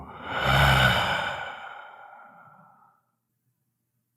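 One long, slow exhale during a guided meditation, a breathy sigh that starts fairly full and gently trails off over roughly two and a half seconds into near silence.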